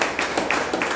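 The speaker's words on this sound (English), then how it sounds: "all of them deserve a big round of applause" A short burst of audience applause at a Toastmasters club meeting, brisk overlapping claps at moderate distance, steady for about a second.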